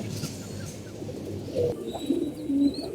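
Pigeons coo in a loft with a steady low murmur of calls and shuffling, a few louder coos rising near the end, close by and without talk.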